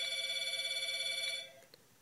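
A telephone rings with a steady electronic trill, loud and continuous for about a second and a half before cutting off, with faint room noise after.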